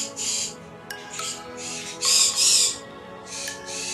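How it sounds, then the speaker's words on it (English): Several birds, likely parrots, give bursts of high chirps and squawks in the background of a home setting, loud and repeated across the clip, with a few sharp clicks between calls. "Do you hear those other birds?"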